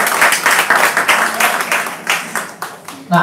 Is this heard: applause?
yes